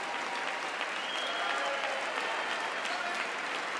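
Audience applause at a State of the Union address, a steady sustained clapping from a large crowd in a chamber, fairly distant and continuous throughout.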